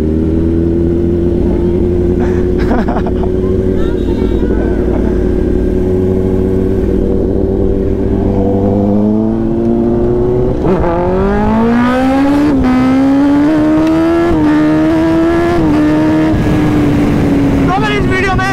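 Kawasaki ZX-10R sportbike in race mode held at full throttle in fourth gear, a loud continuous engine roar whose pitch climbs steadily, dips briefly mid-run, then rises again with strong harmonics, close and dominant throughout.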